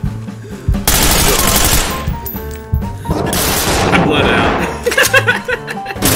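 Rapid gunfire bursts from the tactical shooter Ready or Not, loud and close, coming in dense volleys with a brief gap and a deep boom, while players talk and laugh over the shooting.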